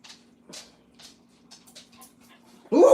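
A dog reacts to a mouthful of hot spaghetti with soft snuffles and faint whimpering sounds, then a sudden loud close burst of noise at the end.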